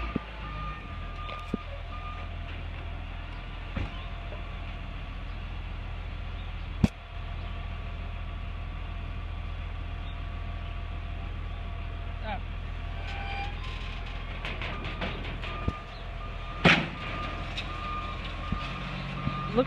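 A truck reverses to drop a car onto a trailer, its backup beeper sounding steadily over a constant low engine rumble, with a few clanks and knocks and someone talking now and then.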